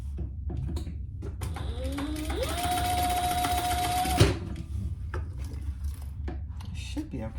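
A domestic sewing machine stitches a crossover bag project: a rapid mechanical whir with a rising motor tone that runs steadily for about two seconds and then stops abruptly, followed by faint handling clicks and rustle nearby.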